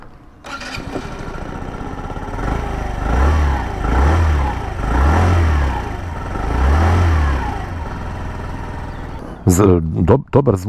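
A Sym Symphony 50cc scooter engine starts and idles with a buzzing drone, then revs up and down in several rising and falling swells, close and loud, before settling; a voice speaks briefly at the end.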